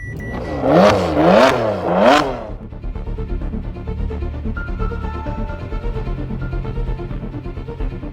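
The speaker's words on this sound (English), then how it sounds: "it's like engine clanking, but it's going to sound a little bit like a knock" A Porsche Cayman engine revs sharply three times, then drops to a steady, rough idle with a low knocking clatter underneath.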